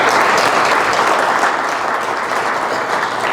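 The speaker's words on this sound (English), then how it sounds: "Let's give a round of applause to" An audience at an AI engineering breakout meetup claps steadily, a dense, even wash of applause that holds loud and unbroken for the whole stretch with no voices above it.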